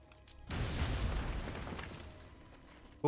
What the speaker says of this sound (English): The wall ahead is weak enough for my explosive gel to blow through and open up a new path.